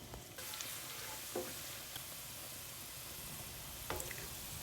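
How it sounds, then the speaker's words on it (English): Garlic sautéing in hot olive oil gives a steady, soft sizzle with faint crackles and a couple of brief utensil clicks, heard alone at low volume throughout. "Heat up olive oil, saute garlic until fragrant and browning."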